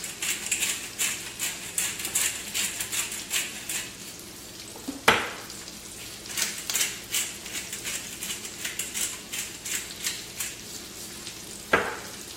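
Food tossed in a pan with olive oil, salt, pepper and oregano for Italian pork chops, giving a steady sizzle and frying crackle broken by soft clinks and stirring scrapes, close and continuous with no talking.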